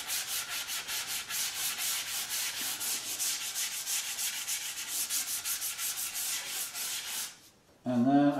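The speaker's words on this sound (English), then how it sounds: "Started sanding the end grain here rather vigorously." Vigorous hand sanding across the end grain of a knotty pine cabinet door, fast rhythmic rasping strokes, close and loud, ending in a brief pause and a soft bump.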